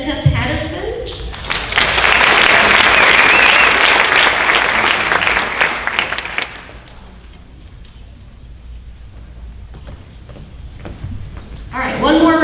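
High school honors night audience applauding, a dense burst of clapping that swells after a brief voice, holds strongly for several seconds, then thins to scattered claps before someone speaks again.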